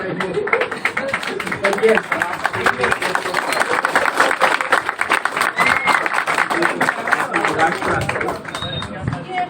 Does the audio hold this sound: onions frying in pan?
no